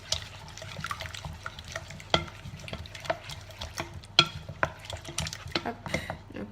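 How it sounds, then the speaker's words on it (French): A utensil stirs savory cake batter with grated gruyère in a bowl, giving soft, irregular scraping and clicking strokes, close and fairly quiet, with occasional sharper taps against the bowl's side. "On remue."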